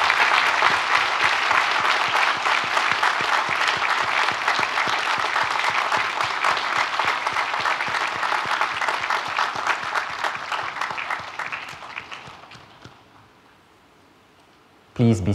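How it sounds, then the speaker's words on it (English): Audience applause fills a university graduation ceremony hall, a dense, steady wash of many hands clapping for about twelve seconds before tapering off into near silence, followed by a brief final burst. "Let's give them a warmest round of applause."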